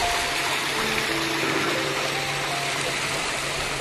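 Water from a waterfall stream in the Ötschergräben gorge rushes as a steady, dense broadband roar that fills the scene evenly, loud and unbroken throughout.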